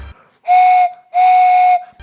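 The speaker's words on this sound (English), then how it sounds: "This is my train whistle." A toy train whistle, kept since early childhood, is blown twice near the listener in two steady, single-pitched, breathy toots of about half a second each, with a short gap between them.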